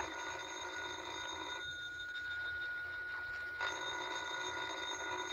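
Telephone ringing as a radio drama sound effect, a faint electronic bell tone that sounds, pauses briefly and resumes over a low background hum.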